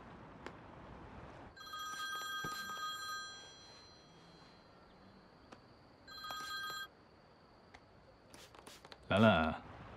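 An electronic telephone ring sounds in two short bursts, a few seconds apart, over quiet room tone. Faint rustling and footsteps are heard between the rings.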